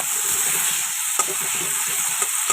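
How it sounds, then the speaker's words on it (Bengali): Whole cinnamon and cloves tempering in hot oil, a bright, steady, close sizzle with occasional stirring clicks and pops. "তো তেলের মধ্যে এখন একটু গোটা"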